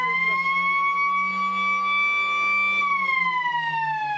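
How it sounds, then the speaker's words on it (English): A long electronic siren wails at an Australian football match between the Lions and the Demons, one sustained loud tone that holds steady and then dips slightly in pitch near the end, with no talking over it. "Siren goes."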